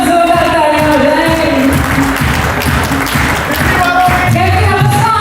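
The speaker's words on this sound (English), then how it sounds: "A huge round of applause, everyone, for yourself." Loud, sustained audience applause fills a hall at the PCC Gala 2022, a dense wash of clapping that holds steady throughout, with tonal voices or music faintly woven underneath.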